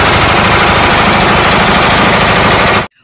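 A toy M16 rifle fires a continuous rapid electronic burst of gunfire, loud and close, then cuts off abruptly at the end.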